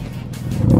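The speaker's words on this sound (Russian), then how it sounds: "с толкача попробуем" Car engine catching after a push start: a brief, loud engine rumble that swells into a rising rev within less than a second.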